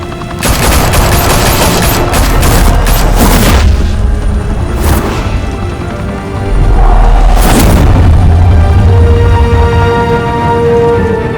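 Dense gunfire from the video game Batman: The Telltale Series, loud and continuous: rapid volleys with heavy booming blasts, swelling again in the second half with no voices.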